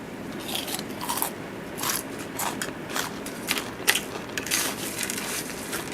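Crispy no-brand Thai fried chili being bitten and chewed up close, a run of sharp irregular crunches in bursts over a quiet background, with no talking.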